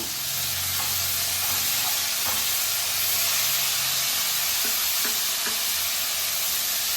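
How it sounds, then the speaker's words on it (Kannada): Onions, fresh coriander and mint fry in a hot pan, a loud, continuous close sizzle with occasional light stirring clicks and scrapes. "ಎಲ್ಲ ಮಿಕ್ಸ್ ಮಾಡಿ ಚೆನ್ನಾಗಿ ಫ್ರೈ ಮಾಡೋಣ"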